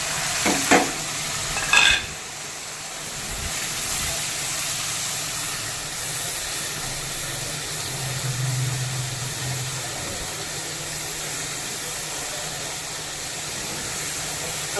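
Dry spices (red chilli, turmeric, salt) fry with potato and spinach in a pan, giving a steady close sizzle and hiss, with a few clanks of stirring at the start.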